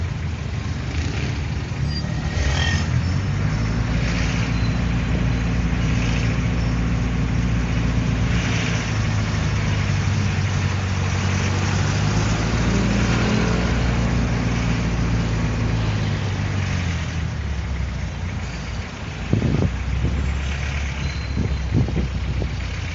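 Car engine idling and creeping along in heavy traffic during a test drive: a close, steady low drone whose pitch rises and dips as the car edges forward, with no talking.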